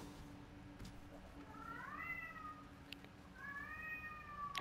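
A cat meows twice in a home, two drawn-out rising and falling calls a moment apart, moderately close over a low steady background hum.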